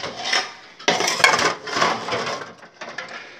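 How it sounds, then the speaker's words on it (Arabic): Dishes and glasses are set together for washing, giving a few short clattering, scraping bursts of ceramic and utensils close by, separated by brief pauses. "حطيت المواعين كلها."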